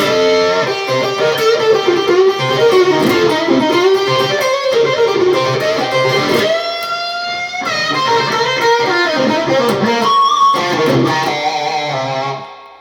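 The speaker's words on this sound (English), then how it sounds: "if I actually overdrive it even more, if I may, you're gonna hear." Overdriven electric guitar played through Analogman Big T front and Fender N3 rear pickups, a continuous loud blues lead phrase with sustained bent notes, played alone without talk.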